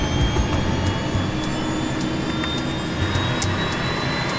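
Jet engines of an airliner throttling up, recorded from inside the cockpit during a test flight, a steady loud roar with a constant whine held throughout.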